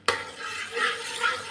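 A spoon stirs a thick herbal lehyam mixture roasting in a pan, with one sharp scrape at the start and then soft, sizzling stirring strokes that swell and fade.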